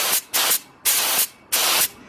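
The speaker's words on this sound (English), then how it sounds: "we're adjusting the actual spray pattern, so we're getting a nice big fan on it" A paint spray gun set to a wide fan pattern sprays in three bursts of steady, loud hiss, each roughly a third to half a second long, separated by short quiet gaps.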